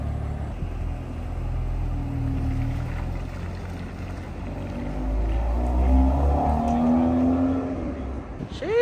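A BMW pulls away on a drive, its engine a steady low rumble that swells louder toward the end as the car accelerates, with no talk over it.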